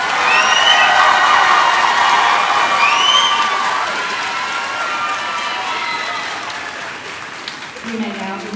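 Audience applause with scattered cheers and whoops for graduating students at a 2023 Southwest Edgecombe High School graduation ceremony, a loud sustained crowd wash that slowly fades, with voices mixed in.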